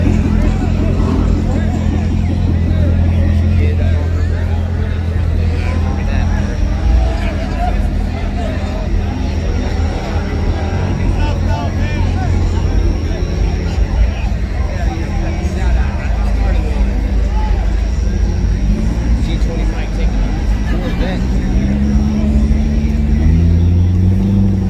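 Drag racing cars, including a Corvette, at a heads-up grudge race, with a loud, steady engine roar and rumble throughout and crowd chatter mixed under it.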